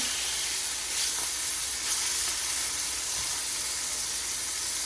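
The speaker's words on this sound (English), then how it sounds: "I'm gonna start adding in the cutlets one at a time" Chicken cutlets hit a hot pan for fettuccine chicken Alfredo, giving a bright, steady sizzle and hiss that runs close and loud throughout with small bursts as pieces go in, with no talk.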